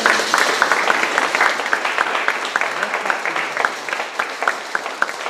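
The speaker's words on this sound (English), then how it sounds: "So big round of applause" Audience applause at an end-of-year gala for an under-17 boys team: a dense, steady wash of many hands clapping, moderately loud, with a few sharper individual claps standing out over about five seconds.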